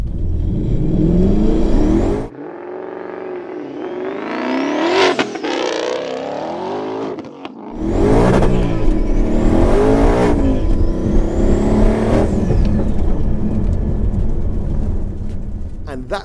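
A twin-turbo 980 bhp Ford Mustang GT launches and accelerates hard up close. The engine roars loudly through rising revs, broken by sharp gear-change dips and then renewed pulls.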